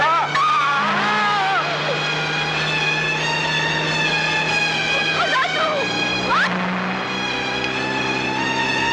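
A bus approaching with tires squealing and skidding on the road, long high screeches over a steady engine drone, with a shouted voice breaking in partway through.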